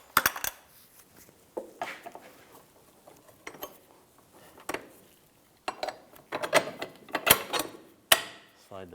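Metal bolt being slid through a rear trailing arm bushing on a 1998-2010 Volkswagen Beetle, a series of sharp clinks, taps and scraping knocks in irregular bursts, close and fairly quiet with pauses between.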